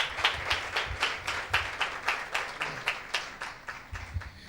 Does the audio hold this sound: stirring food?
no